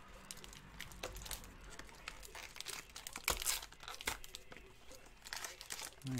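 Crinkly plastic wrapper of a 2015-16 Upper Deck SP Game Used hockey card pack being torn open up close, with a sharp rip midway among ongoing soft crumpling, quiet and alone.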